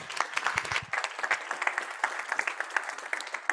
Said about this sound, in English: Let's give a round of applause to Organison Scientific.